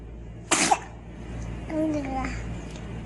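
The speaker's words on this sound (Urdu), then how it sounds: "اور چھینک پر کسی نے الحمدللہ کہا" A child's sharp, sudden sneeze rings out close and loud with a quick second burst, followed by soft childlike babbling amid steady low background hum.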